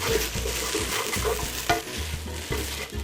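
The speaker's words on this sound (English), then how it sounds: "You always want to cook it out for a few minutes. Just want to mix that around." A spoon stirs tomato paste cooking in a hot pan, giving a repeated scraping rhythm over a steady sizzle, close and moderately loud with no talking.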